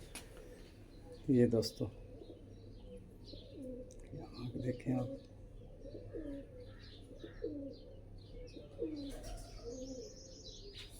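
Pigeons coo softly on a rooftop, low repeated calls with some chirps from other birds, while someone talks nearby over the faint cooing.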